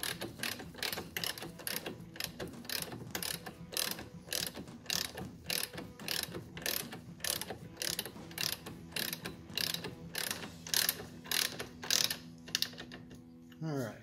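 A hand ratchet snugs bolts during a brake swap on a C6 base Corvette to Z06 brakes, giving rapid, regular clicking strokes up close with a few short pauses between pulls.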